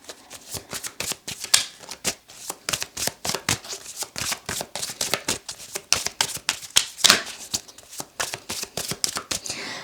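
Tarot cards are shuffled close by in a rapid run of crisp riffling slaps and flicks, a busy uneven rhythm that continues without pause.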